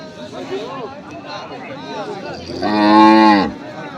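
At the Ambari market near Dinajpur, where dairy cows are sold with their calves, a cow gives one loud, drawn-out moo against a background of voices and the crowd.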